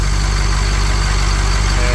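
A Humvee engine idles steadily and loudly up close, a constant low rumble with no variation over two seconds.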